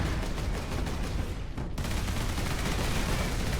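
Dense, sustained automatic gunfire in the Warhammer 40,000: Space Marine video game, a continuous rattling fusillade with a brief dip midway, loud and unbroken with no voices.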